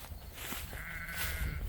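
Sheep bleating in a pasture of goatweed, a single short bleat heard faintly from a distance over outdoor background noise.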